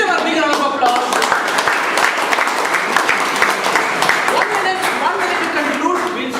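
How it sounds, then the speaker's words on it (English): Audience at a Toastmasters debate applauding, dense clapping that holds steady and fairly loud for several seconds, with a few voices mixed in. "Give them a big round of applause."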